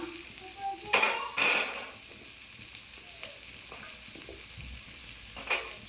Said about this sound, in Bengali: পটলটা দিয়ে ভেজে নেবো একটু, 2 মিনিট ভেজে নিয়ে তারপরে আবার আনাজ দেবো